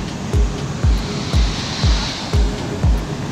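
A standing river wave in Munich roars steadily in light snow, with a regular pulse of surges, each swelling about every half second, and no voices.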